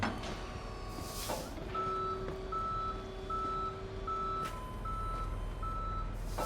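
A tow truck hauls a car away in a police video game, its reversing alarm beeping in an even, repeating rhythm over a low idling engine rumble, with a sharp air-brake hiss early on.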